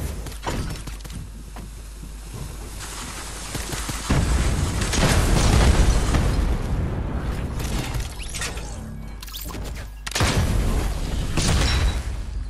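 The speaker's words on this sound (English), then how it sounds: "You think we can get a kill with a cannon straight away?" Loud booming cannon blasts and crackling impacts from a Fortnite battle, with heavy bursts starting around a third of the way in and again near the end.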